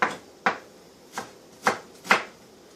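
A knife chops half a medium onion on a board in five crisp, separate strokes spaced unevenly, close and clear with no talking.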